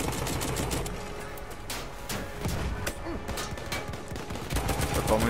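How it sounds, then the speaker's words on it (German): Machine gun fire aimed at an airship in the video game Battlefield 1, rapid dense bursts of shots running continuously and fairly loud throughout. "Ich kann da raufballern, was geht, aber ich mache keinen Schaden am Luftschiff."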